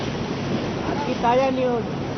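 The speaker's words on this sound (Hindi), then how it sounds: "पानी का वेग देखिए, प्रवाह देखिए कितने जोर से है" The swollen Ganga at Rishikesh rushes with strong force, making a steady, loud, broad roar of churning water without a break, with a voice briefly rising over it midway.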